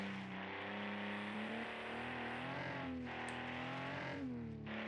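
A boxer engine in a Group B rally car in a racing video game drones and revs steadily with a gruff, rumbling tone, rising and falling in pitch, loud and continuous with no talking.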